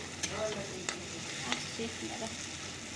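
Masala being sautéed and stirred in a pan, with a continuous close sizzle and a few light scrapes of the spoon across the metal.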